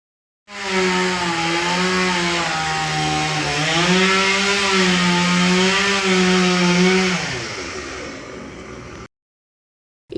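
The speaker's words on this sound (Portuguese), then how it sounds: "o meu vizinho trabalha com uma motosserra. Ele lida com ela para cortar pedaços de lenha para vender" A chainsaw cuts pieces of firewood for sale, its loud droning engine whine steady and close for several seconds, pitch dipping and rising under load, then stopping abruptly.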